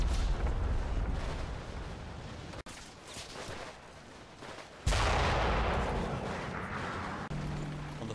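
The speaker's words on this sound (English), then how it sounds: "The 6-pounder AT gun on this flank is almost in position. Comes under direct mortar fire." Mortar rounds landing in a World War II game battle in Normandy, a 6-pounder anti-tank gun under direct fire: dense rumbling blasts and crackling debris, a sharp break near three seconds, then a second loud impact around five seconds, no talk.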